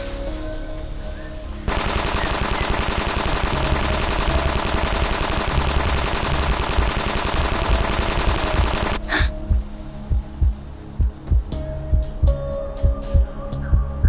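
Small-caliber machine pistol fire in the game Reverse: 1999, a loud dense sustained burst of rapid shots lasting several seconds, followed by a run of separate, evenly spaced single shots.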